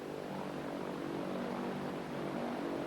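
Steady propeller airplane drone heard from inside the cabin in flight, a constant broad hum with low engine tones, unbroken and moderately loud for the whole stretch, with no one speaking.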